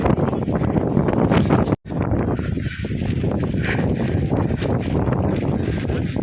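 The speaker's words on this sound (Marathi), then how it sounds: "एवढा पावरने वारा येतो ना, डेंजर" Strong wind blowing on a mountain fort trek: loud, continuous rushing and buffeting against the microphone, with one brief dropout, steady roar throughout.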